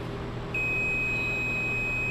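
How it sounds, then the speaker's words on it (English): A multimeter continuity tester gives a single steady electronic beep that starts abruptly about half a second in and holds at a constant pitch to the end, clear over a low background hum. "then you put it on the other side of the wire, and it should beep if there's good flow"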